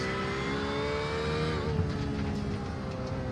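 Race car engines, a Porsche and a McLaren at Tsukuba in a racing game, roar steadily and close up with a rising revving note, loud and continuous without talk.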